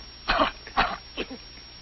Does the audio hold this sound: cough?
yes